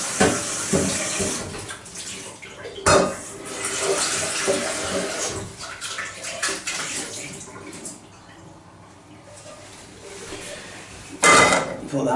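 Oyster mushrooms swirled briefly in water while being cleaned for cooking, giving irregular sloshing and splashing with a few sharp clatters, fairly close, and some talk mixed in.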